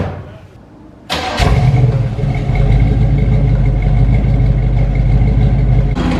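A 1969 Camaro with a new exhaust cranks briefly, then fires up with a sudden loud roar and settles into a deep, steady rumble close by, with a slight blip near the end.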